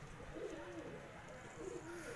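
Fancy pigeons kept in a netted enclosure coo softly, a faint low repeated burble over quiet background noise.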